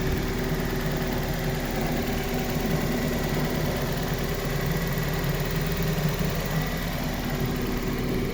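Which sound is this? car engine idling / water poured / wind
car engine idling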